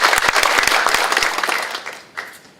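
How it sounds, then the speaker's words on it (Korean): A crowd at a Korean policy forum claps loudly and steadily, then the applause thins out and fades, with a few last scattered claps near the end. "박수로 모시겠습니다."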